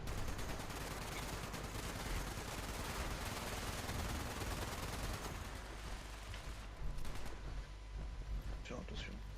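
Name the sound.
gunfire in the video game Fallout 76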